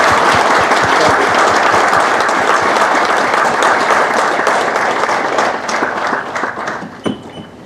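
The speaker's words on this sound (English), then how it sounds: "for a big applause for our speech." A lecture-hall audience at an Indian Army memorial lecture claps loudly and continuously after a speech, a dense wash of many hands that thins and fades out near the end.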